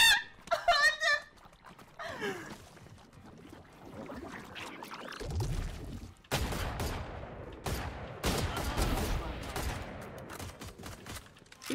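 Shotgun blasts in Valorant come as several sharp, loud bursts of gunfire in the second half, mixed with other game effects and excited voices talking.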